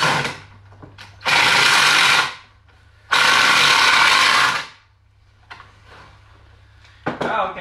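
A power drill bores into a craft table board in two loud, sustained bursts of about a second each, separated by quieter pauses and followed by a few lighter knocks and handling noises.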